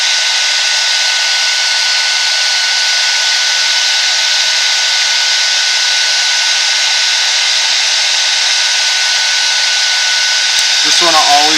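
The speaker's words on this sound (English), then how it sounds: "just want to always make sure that your heat gun is moving" A heat gun blows hot air in a steady, loud broadband hiss while swatching Milky Way, holding constant throughout before a brief rustle at the very end.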